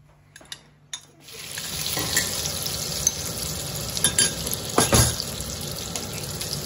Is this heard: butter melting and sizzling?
yes